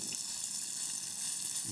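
Carrot-shaped pieces of dough frying in hot oil in a pan, giving a steady, close, continuous sizzle with no talk over it.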